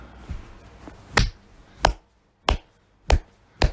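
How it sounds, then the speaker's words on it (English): One person claps their hands about five times in a slow, steady rhythm, each clap sharp and close, with quiet pauses between and nothing else around them. "I'm clapping, by the way, if you can't tell."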